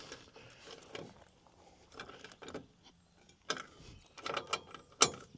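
Bolts on a bike hitch e-bike rack being tightened with a ratchet wrench, heard as bursts of quick ratcheting clicks separated by short pauses, close and fairly quiet, with no talking.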